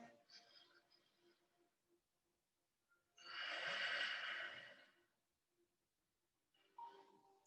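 Deep breathing during an office yoga stretch: a long, loud exhale in the middle framed by softer breaths before and after, close and intimate with no talking.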